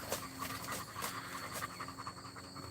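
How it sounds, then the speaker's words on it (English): A dog pants rapidly and steadily from close by in a quiet space, a soft, even rhythm of quick breaths with faint background noise. "Getting paid to watch a dog."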